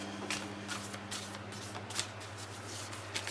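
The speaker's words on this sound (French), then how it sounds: "Hop, une carte s'est retournée d'elle-même." During a card reading, a playing card flips over with faint, papery flicks and rustles repeating softly at a close, quiet level, with no talking.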